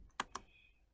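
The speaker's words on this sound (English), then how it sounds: "So I'm typing ping" Typing on a computer keyboard at a home or office desk, a few sharp isolated key clicks, close and quiet, spaced unevenly within a second.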